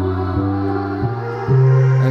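Distorted bass tone from an Elektron Model:Samples groovebox, a loud buzzy sustained note that shifts pitch a few times and swells louder near the end, alone without talk.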